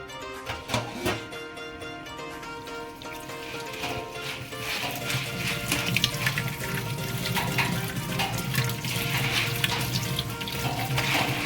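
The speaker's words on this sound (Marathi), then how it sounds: "जाळीमध्ये काढून स्वच्छ पाणी परत धुवायचे." Fenugreek and spinach leaves are rinsed in a strainer under a running kitchen tap, a steady rush of water with occasional clinks and splashes as the leaves are handled.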